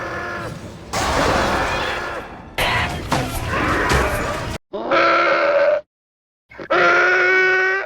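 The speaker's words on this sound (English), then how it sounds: "at least some of these orc and goblin noises are either unused or reused Tusken Raider yells from Battlefront" Orc and goblin yells from a Star Wars Battlefront-style video game, like Tusken Raider cries: loud, harsh, ragged screams and grunts in separate bursts with short silent gaps, the last two higher and more tonal.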